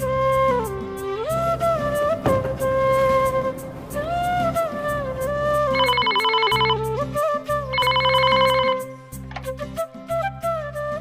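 A telephone rings after a call is dialed, repeating a melodic ringtone pattern with bright trilling bursts, loud and close, alone with no talk.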